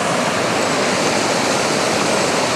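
Small river of water running out of a drained pond, a steady, dense rushing flow at close range with no pauses and no voices.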